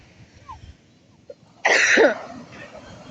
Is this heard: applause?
no